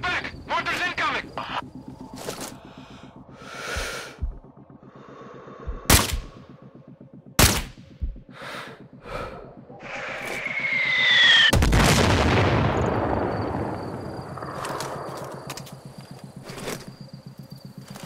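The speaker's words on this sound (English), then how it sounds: "Mortars incoming!" Video game combat with mortar rounds and gunfire: sharp shots and booms scattered through the first half, then a whistling incoming shell and a long rumbling blast, with voices shouting over the fighting.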